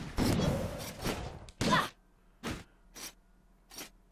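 Cannon firing in the video game Rogue Legacy, several short sharp booms spaced a second or so apart, with a dense burst at the start and quiet gaps between shots.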